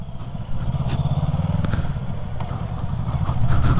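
A motorcycle passes on a road during a ride, its engine a loud, steady rumbling drone that swells slightly toward the end, heard close against wind noise.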